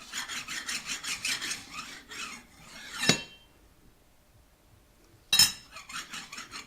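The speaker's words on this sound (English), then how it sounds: "take a flat file and check this surface for any burrs or irregularities or high spots" A flat file rasps across the machined surface of a differential for a 1992 Toyota Hilux Eaton Trutrac swap in rapid back-and-forth strokes, pausing after a sharp clink, then resuming for a short burst, close and clear with no talk.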